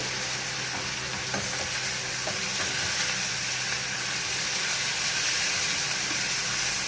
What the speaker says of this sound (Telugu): ఇట్లా మునక్కాయ, క్యారెట్ ఒక్క నిమిషం వేగిన తర్వాత ఈ ఉప్పు పసుపు నీళ్ళలో వేసుకున్న వంకాయ వేసేసుకోవాలి.